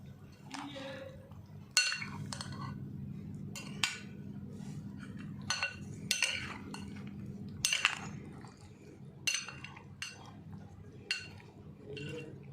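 A spoon clinks and scrapes against a dish while creamy fruit chaat is stirred with yogurt, giving scattered close taps over a low steady background hum.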